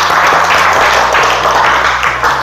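Class group applauding together during an Indonesian teacher coaching session: a loud, steady wash of clapping over low sustained tones that shift in pitch, with no break over the whole stretch.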